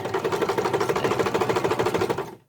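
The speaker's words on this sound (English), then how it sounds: "you've got the presser foot guiding you around that piece of piping cord" Sewing machine stitching piping cord onto a cushion cover with the presser foot guiding the cord, a close, even, rapid mechanical chatter that runs steadily and then stops abruptly.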